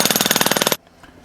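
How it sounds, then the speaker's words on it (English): An automatic screwdriver backs screws out in a cellar workshop, a loud, fast, even rattle of rapid pulses close by that cuts off abruptly, leaving near silence. "It was pretty easy with Rob's automatic screwdriver there"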